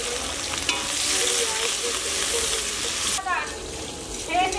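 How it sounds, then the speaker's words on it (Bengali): Chopped onions with whole garam masala frying in oil for a Bengali mutton curry, a loud, steady close sizzle with crackling spatters and occasional stirring scrapes throughout. "পেঁয়াজটা ভাজা হয়ে গেছে"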